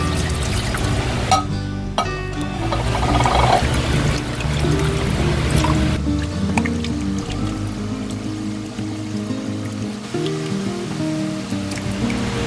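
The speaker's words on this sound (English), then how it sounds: "I'm just going to add a little bit of water," Water pours steadily from a can into a crockpot for several seconds, a continuous splashing stream, close and fairly loud.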